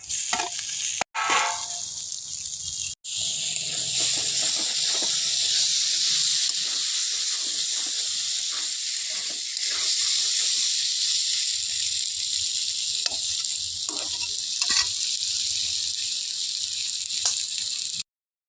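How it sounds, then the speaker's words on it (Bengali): Potatoes and previously fried eggplant sizzle steadily with spices in a pan, a loud continuous frying hiss with brief breaks near the start and occasional stirring scrapes, no voices. "বন্ধুরা আলু আর বেগুনের সাথে আমি ভালো করে কষিয়ে নেব"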